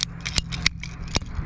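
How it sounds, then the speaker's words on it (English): Cutters snipping a small piece of garden irrigation tubing, giving a few sharp close clicks and crunches over a steady low background hum. "I'm gonna take my cutters and I'm just gonna cut a little"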